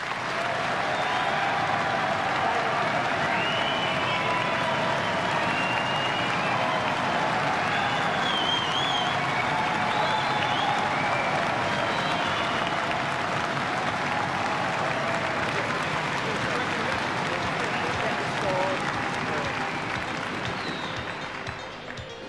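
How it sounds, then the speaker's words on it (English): Sustained audience applause in an indoor hall for a billiards trick-shot player, dense steady clapping from a large crowd that holds level for about twenty seconds before starting to fade at the end. "Ladies and gentlemen, your vote and applause for Terry Griffiths."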